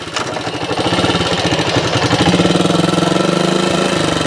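A 1964 Honda CT90 motorcycle's small single-cylinder engine runs steadily and loudly up close, a fast, even putter with a throbbing pulse and no talking over it.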